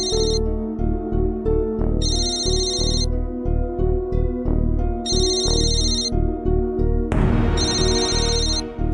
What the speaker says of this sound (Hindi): ये फोन तो लगातार बज रहा है